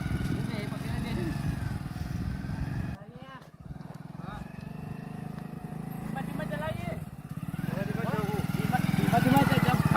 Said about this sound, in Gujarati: બે બાઈક ચાલુ કર